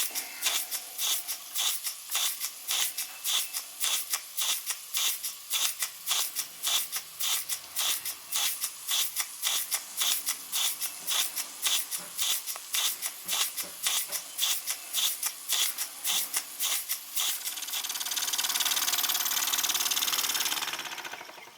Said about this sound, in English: Back again under load, running the baker fan.